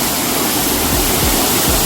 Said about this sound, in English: we literally went under the fucking waterfall